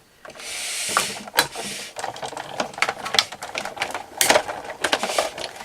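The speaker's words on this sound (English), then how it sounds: "That cracking noise is perfectly normal." A die-cutting machine grinds and crackles as a framelit die is forced through, with sharp snapping clicks and ratcheting mechanical noise in an uneven rhythm.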